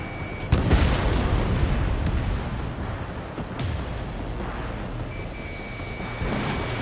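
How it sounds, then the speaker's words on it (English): A harbor under heavy fire in Ace Combat 7 erupts in booming explosions, with a loud blast near the start followed by ongoing rumbling detonations and scattered pops, dense and sustained for about seven seconds. "The harbor is under heavy fire."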